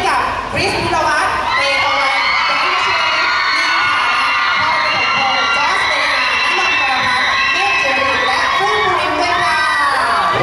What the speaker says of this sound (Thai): ขอเสียงกรี๊ดดังๆให้กับคริสพิรวัตร